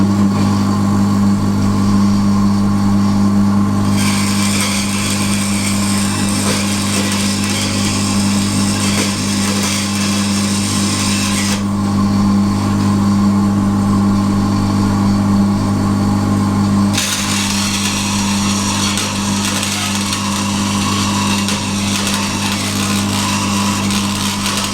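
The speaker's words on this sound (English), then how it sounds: "Anyway, here we go, we'll start out the bandsaw." A bandsaw runs steadily and loud in a workshop, cutting a part for a 1949 Rover P3 restoration, with a low motor hum throughout and bursts of brighter cutting noise as the blade bites into the workpiece.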